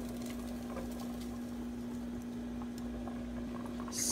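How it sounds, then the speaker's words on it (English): Water coming to a boil in a cooking pot, a steady, continuous bubbling wash with a low electrical hum underneath and no voices. "It is starting to boil."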